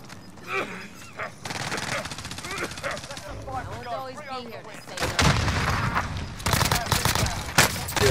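Rapid bursts of gunfire from a shooter video game crackle through the clip, dense automatic volleys growing louder in the second half, mixed with excited player talk over the action.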